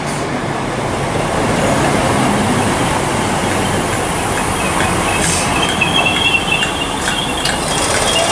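A Strathclyde electric multiple unit train pulling into a station, a loud continuous rumble of wheels and motors with high squealing from the wheels on the rails, close by and steady throughout.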